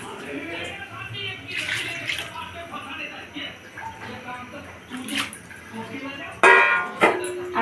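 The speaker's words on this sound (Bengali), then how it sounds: "আর একটু জল দিতে হবে, জলটা ফুটবে অনেকক্ষণ ধরে একটু।" Water pours into a cooking pot of meat, a splashing, running stream under a voice that talks throughout. A louder burst of splashing comes near the end.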